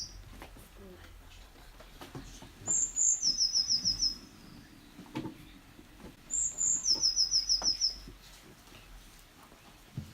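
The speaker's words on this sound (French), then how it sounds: "la petite mésange bleue" Two short bursts of high, rapid blue tit song a few seconds apart, fairly faint over a low background rumble.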